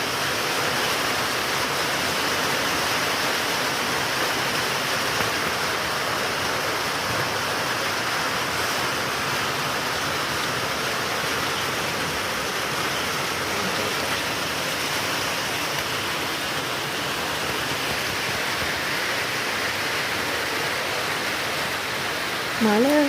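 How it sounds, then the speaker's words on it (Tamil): Steady rain pours down in Kodaikanal during rainy weather, a dense, even hiss that continues unbroken and fairly loud throughout. "மழை குறைஞ்சிருக்கு."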